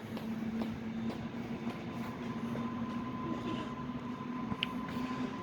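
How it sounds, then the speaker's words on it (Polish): A hybrid test train, West Pomeranian Railways N63H, rolls steadily past at a station in Tarnów, Poland, with a continuous rumbling roar, a faint high whine and occasional light clicks over the wheels. "Pociąg testowy."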